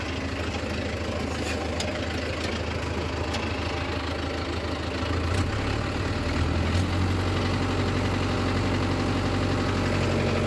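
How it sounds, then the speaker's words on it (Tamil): Tractor engine running steadily while being driven, a continuous low, rough idle-like drone with slight knocking texture that swells a little louder partway through, no voices. "வாங்க வண்டி ஓட்ட ஓட்ட வீடியோ எடுத்துக்கலாம்"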